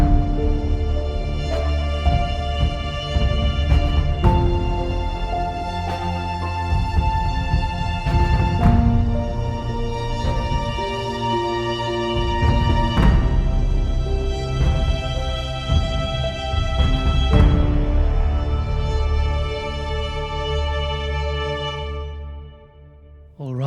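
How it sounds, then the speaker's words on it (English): A hybrid orchestral composition built with the Symphonic Destruction instrument, layered with Damage 2, Heaviosity and Ascend Piano harmonies, plays as dense rhythmic hits and sustained chords, loud and full throughout before thinning out at the end. "you really hear that hybrid sound, which is why I would say this instrument is perfect for hybrid orchestral music"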